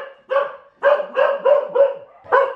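Dogs barking close by at a home beside a driveway: a rapid string of about seven sharp, loud barks in uneven bursts with brief gaps between them.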